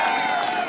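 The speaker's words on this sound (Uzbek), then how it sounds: "Bir qarsak bo'lsa o'rtoqlar." A crowd breaks into applause at a village gathering in Kashkadarya, a steady dense wash of clapping filling the short moment without pause.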